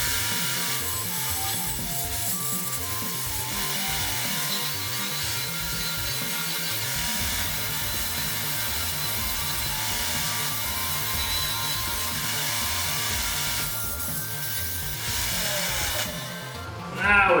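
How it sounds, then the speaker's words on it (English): An angle grinder cleans a spot of metal to bare steel for a MIG welder's ground connection, producing a loud, steady grinding whine that holds throughout with a pulsing, rough texture underneath. "Since I have a grinder right here, we'll just use that grinder to create one."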